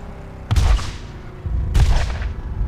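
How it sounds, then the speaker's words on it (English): Two heavy launch blasts from rockets fired in the video game Borderlands, each a sharp booming burst with a rumbling tail, spaced about a second apart over a steady low background. "Launching rockets all over the place."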